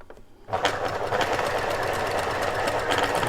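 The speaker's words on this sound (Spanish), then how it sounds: "lo hago para que veáis bien el proceso de costura" A sewing machine starts up and stitches a TNT fabric face mask with white thread, a fast steady mechanical whir and clatter that runs continuously, close and alone.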